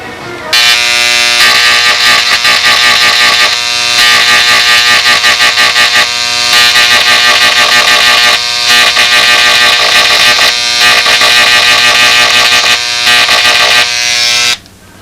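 An inexpensive electric engraving tool roughens and knurls the shaft of a model aircraft motor, giving a loud, continuous harsh buzz with a few brief pauses, close up.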